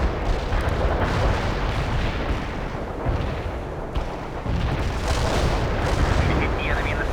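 Artillery strike in the World in Conflict video game: a continuous, heavy barrage of deep booming detonations and rumbling blasts, loud and dense throughout with no pauses, overlapping shell impacts rolling into one another.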